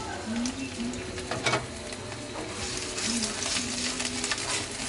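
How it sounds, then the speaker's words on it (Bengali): Chopped onion fries in two tablespoons of hot oil with a steady, close sizzle, a few stirring knocks, and faint chirping in the background. "তো পেঁয়াজটা আমি একটু ভেজে নিব।"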